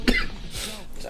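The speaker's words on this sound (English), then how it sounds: "just the cough." A single short cough, close and fairly loud, followed by a brief trailing voice sound.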